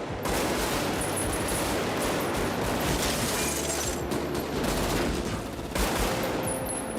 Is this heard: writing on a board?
no